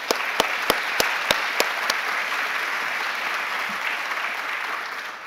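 At a university chancellor's fall plenary, an audience gives a round of applause: a few sharp, distinct claps lead into a sustained, even wash of clapping from a large crowd that slowly tapers.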